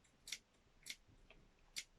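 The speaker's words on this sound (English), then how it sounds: "I'm going to take my scissors and I'm just going to make very, very small clips" Scissors make small, careful snips into faux fur fabric while cutting a scarf pattern: three crisp, quiet clicks spaced unevenly over two seconds, close up, with no talking.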